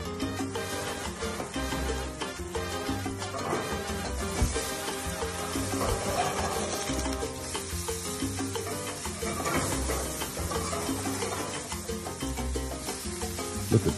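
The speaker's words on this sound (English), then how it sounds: "let's flip those burgers" Rare burgers sear on a grill just after being flipped, giving a steady dense sizzle with crackles that runs without a break, mixed with background music and no talking.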